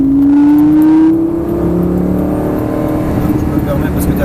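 A car engine on a race track rises steadily in pitch as it accelerates hard without shifting gear, with someone talking in French over the loud motor.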